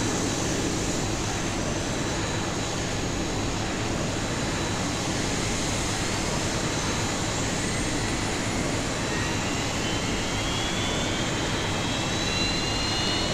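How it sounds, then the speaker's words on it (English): Simulated Airbus A320 engine 1 spooling up in the X-Plane 11 flight simulator, a loud, steady jet roar with rising whine tones and a broad rumble throughout. "So let's turn on engine 1."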